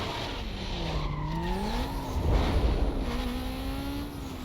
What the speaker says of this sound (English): absolutely adore the sound of the engine.